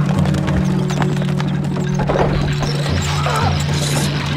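Rapid clip-clop of a galloping horse in Stronghold Crusader over a steady low hum, quick regular beats continuing throughout with a brief crash partway.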